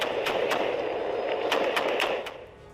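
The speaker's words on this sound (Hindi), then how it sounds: "यूक्रेनी पोस्ट पर अंधाधुंध फायरिंग" Gunfire at a Ukrainian frontline post, a burst of sharp shots cracking over a dense, noisy background, several distinct reports spread across a few seconds before fading.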